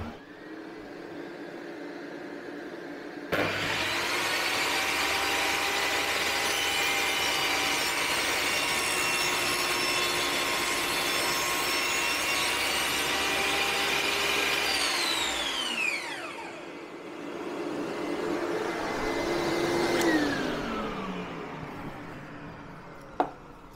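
A VEVOR 1800W table saw rips through wood while a shop vacuum runs, a loud steady whine that holds for several seconds, then spins down before a second shorter cut and run-down follow.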